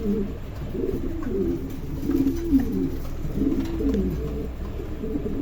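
Several king pigeons coo softly and repeatedly in low, rolling calls that overlap one another against a steady background murmur.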